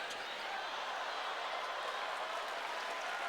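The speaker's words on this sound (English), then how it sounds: "They're all applauding him." Tennessee players clapping from the bench at a Georgia vs. Tennessee college basketball game after a three-pointer, a steady, fairly faint wash of applause and crowd noise throughout.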